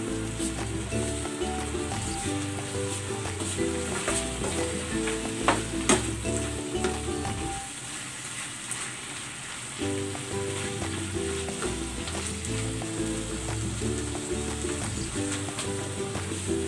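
Onion leeks stir-fried with eggplant and tuna sizzle steadily in a pan, with rhythmic scraping and clinking of a utensil stirring, a short quieter lull midway, then the stirring resumes.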